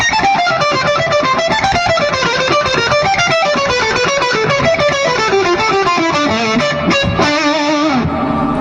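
A Bach phrase played on a fuzz-distorted electric guitar with rapid alternate picking, a fast continuous run of bright, saturated notes rising and falling, loud and alone, ending on a sustained chord.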